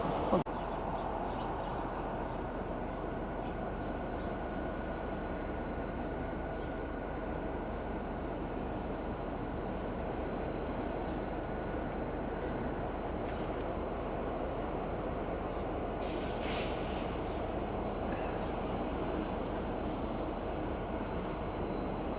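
A train passing through a quiet town, a steady broadband rumble holding for the whole stretch with a faint whistle-like tone above, moderately distant and unbroken, with no talking.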